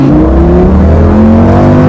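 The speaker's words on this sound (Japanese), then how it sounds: "さあゼロ発進からの加速、" Lamborghini Gallardo accelerating hard from a standing start, its engine note loud and close with steadily rising harmonics as it revs up, no talking over it.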